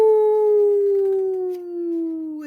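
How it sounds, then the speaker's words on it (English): A single long, clear wolf howl, close and loud, slowly falling in pitch, holding steady for a couple of seconds. "We announce our presence to other packs and fill the night with our howls."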